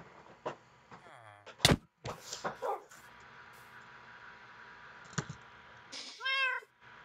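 Cat meows in a Minecraft-style video game, a few short scattered cries with clicks and knocks, ending in a clear rising-falling meow near the close.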